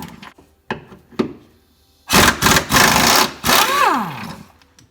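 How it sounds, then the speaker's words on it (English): An impact wrench removes the rear shock bracket bolts on a 2013 Ford Fusion, firing in loud rattling bursts at close range after some lighter handling clicks. "now I'm going to come in here with my impact and remove the top two"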